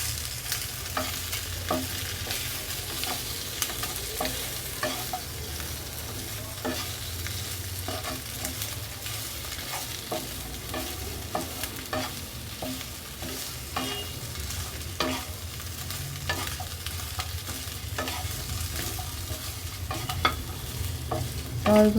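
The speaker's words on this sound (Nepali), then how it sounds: "अब यसलाई मजाले भुट्नुपर्छ।" Chicken feet deep-frying in hot oil, a steady dense sizzle with frequent crackles and stirring scrapes throughout, close and loud with no talking.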